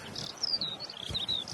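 A skylark sings over farmland meadow, a distant, high, thin stream of sliding whistles and chirps, faint against a soft outdoor background.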